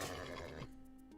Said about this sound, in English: I'm taming this horse.